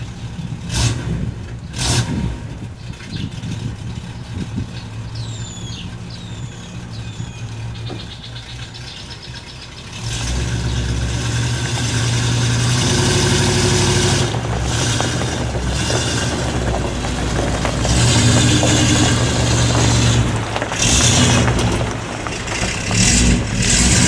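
A vehicle engine idles while hitched to an Airstream trailer, then grows louder and steadier as it backs the trailer up. The engine drone is close and fills the rest of the clip.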